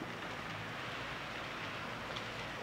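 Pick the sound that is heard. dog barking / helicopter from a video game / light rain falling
light rain falling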